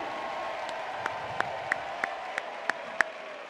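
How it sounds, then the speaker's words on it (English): A crowd at an MMA fight night in Pensacola applauds steadily after a three-round bout, a dense continuous wash of clapping with a few sharper individual claps standing out throughout. "how about a round of applause for both these young men?"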